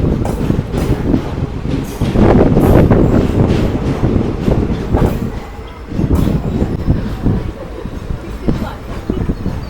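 Train pulling out of Meenakshipuram station in Tamil Nadu, a steady loud rumble of wheels and carriages with wind buffeting the microphone throughout and some faint voices.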